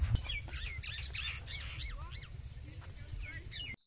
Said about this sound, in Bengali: অনেক পাখি আছে, তাদের কিচিরমিচির শব্দ।